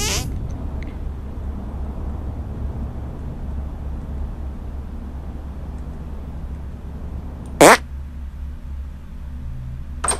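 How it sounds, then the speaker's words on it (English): A single short, loud fart sound effect from the South Park: The Stick of Truth video game breaks through a low, steady game-music hum, with a faint click at the start and another at the very end. "Make your fart detonate behind me."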